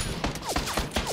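Rapid gunfire in PUBG, a few sharp shots about a quarter second apart, each trailed by a short falling whine, loud and close against a steady game background.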